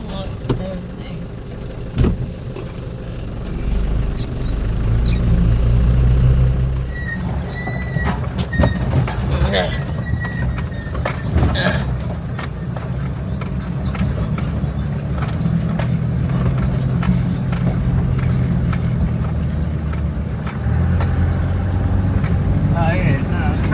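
Truck engine driving, a low rumbling drone that rises and falls with the road, with clicks and rattles over it and people talking in the cab.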